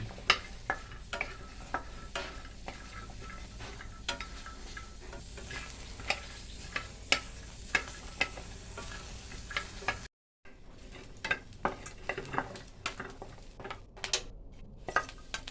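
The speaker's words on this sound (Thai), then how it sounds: "ตั้งกระทะ มลงไปใส่พริกลงไปคั่วพร้อมๆกันเลย" Dried chilies dry-roasting in a hot pan for Thai mackerel chili paste, stirred with a utensil that scrapes and taps the metal in a steady, close, irregular rhythm, with a brief dropout partway through.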